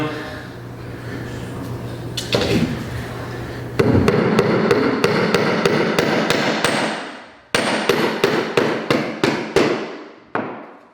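A nail is driven into hardwood flooring during installation, with a series of sharp hammer strikes starting spaced, then coming in faster bursts with brief pauses, close and loud, over a murmur of talk early on.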